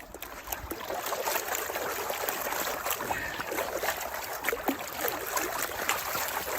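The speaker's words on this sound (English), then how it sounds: "I think that's why the water's running" Cold, snowmelt-swollen stream water running over rocks at a Wisconsin gold prospecting spot, a steady close broadband rush and trickle with no talk.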